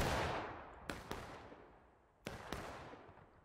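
Several gunshots crack out in a VR shooting game, two sharp reports near one second and another pair later, each followed by a decaying rumble that echoes through the space.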